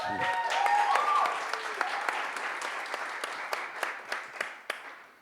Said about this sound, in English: So let's get one more round of applause.